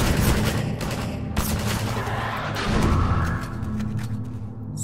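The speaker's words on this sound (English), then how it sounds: "So much with the shooting." Dense gunfire in Half-Life 2 rattles almost nonstop: rapid automatic bursts and sharp cracking shots pile into a loud, continuous barrage with no one speaking.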